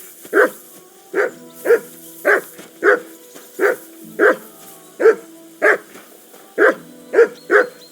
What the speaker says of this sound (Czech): To štěkání se nedalo vydržet